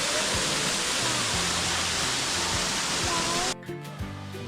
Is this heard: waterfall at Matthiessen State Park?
yes